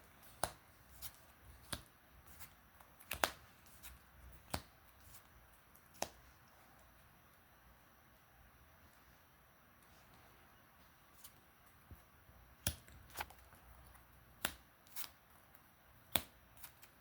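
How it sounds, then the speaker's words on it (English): A deck of trading cards is shuffled at a table, giving scattered sharp riffling snaps and taps in short bursts with a quiet gap in the middle. "I should shuffle for you guys"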